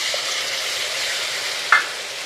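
Browned chopped onions fry with whole garam masala and pastes of cumin, ginger, chili and garlic for a pangas fish curry, giving a loud, steady sizzle with one brief clink partway through.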